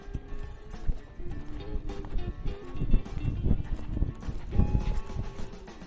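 Horse hooves beat in a rolling, loping rhythm during a riding lesson, under busy music, steady and fairly loud for the whole stretch.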